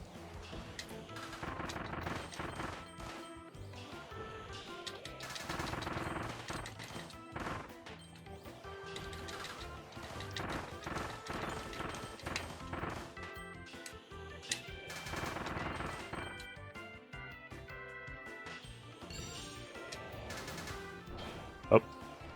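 Video-game gunfire from Kirby and the Forgotten Land, a Noble Ranger long-shot trial: bursts of rapid shots and crashes repeat throughout at moderate level, with one sharp crack near the end.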